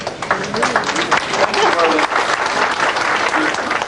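Audience applause at a 1988 reunion gathering; dense, loud clapping with voices and cheers mixed in, continuous for several seconds.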